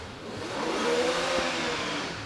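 A V8 hillclimb race car engine, 4 litre, accelerates hard off the line at a hillclimb championship, a steady loud roar with a rising tone holding for a couple of seconds.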